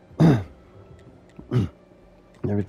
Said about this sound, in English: Every time I try to clear my throat,